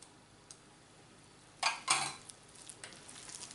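Gyoza filling is mixed with oil in a bowl, heard as two short, close scraping bursts of stirring in an otherwise quiet kitchen.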